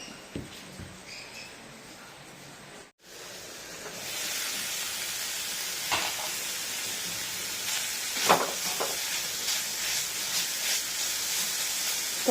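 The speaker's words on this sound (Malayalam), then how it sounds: "ഇത് എണ്ണ വെച്ച് അതിലേക്ക് കടുവൊക്കെ വറുത്ത്" Mustard seeds frying in hot oil for a village-style Kerala thoran, a steady moderate hiss with a few faint pops and crackles, close and alone after a brief quieter start.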